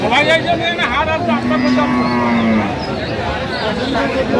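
A dairy cow lets out a long, low moo, close by, over a busy background of people talking in a crowded cattle market at Aftabganj, Dinajpur, Bangladesh.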